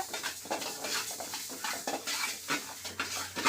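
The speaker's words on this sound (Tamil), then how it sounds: "செவக்க செவக்க வறுத்துக்கலாங்க ஆயிலெலாம் எதுவும் ஊற்றலை" Fenugreek seeds tumble and rattle in a dry pan with no oil as they are stirred, giving repeated scraping swishes and light crackle in uneven bursts, close and fairly loud.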